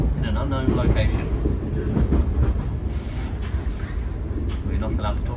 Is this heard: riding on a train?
yes